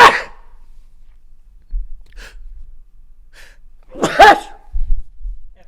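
A single sharp sneeze bursts out amid quiet background, with a few faint breaths and soft noises around it.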